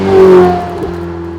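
A Ferrari 488 Spider engine revs in one brief, loud rise and falls back to a steady hum close by.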